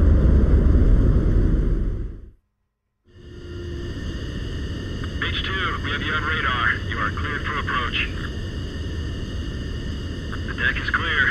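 A jet aircraft in Ace Combat 7 rumbles on its landing approach, a loud continuous engine roar. It cuts out for about a second, then returns as a steadier hum, with a voice talking over the later part.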